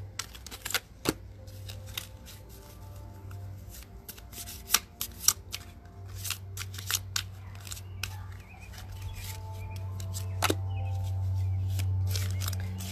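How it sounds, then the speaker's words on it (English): Oracle cards being shuffled and drawn by hand: crisp, close clicks and riffles in irregular clusters over a steady low hum, with a softer rustle toward the end. "Okay, I'm gonna pick 5 more cards."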